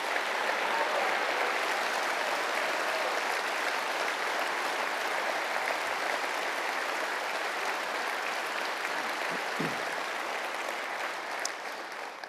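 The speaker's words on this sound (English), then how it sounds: "We applaud you." A large conference audience at a party leader's keynote speech applauds, a dense, sustained roar of clapping that carries on evenly for the whole stretch and fades slightly at the end.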